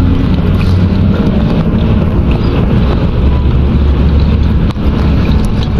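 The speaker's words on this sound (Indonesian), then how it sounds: "Tuh anginnya kencang banget." Strong wind roars continuously against the microphone outdoors, a dense low rumble with steady buffeting throughout and a brief dip near the end, no voices heard.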